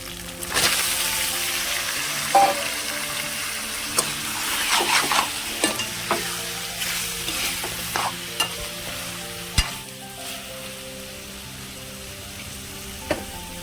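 Chicken frying in a pan with onion, coriander, green chilies and ginger-garlic paste, a steady sizzle broken by repeated scraping and clinking stirs near the mic.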